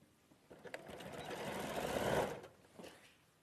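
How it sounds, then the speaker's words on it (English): A sewing machine stitches fabric in one continuous run of rapid mechanical whirring that builds and then stops, with a couple of light clicks before and after. "So now I'm going to sew this."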